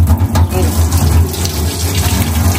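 Tap water runs steadily into a sink while fresh crabs are washed, a continuous splashing gush with no talk over it.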